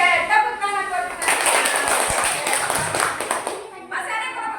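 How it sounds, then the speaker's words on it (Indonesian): A classroom of children breaks into a lively burst of applause lasting about three seconds, many hands clapping together, with voices speaking just before and after. "Oke, tepuk tangan buat kita."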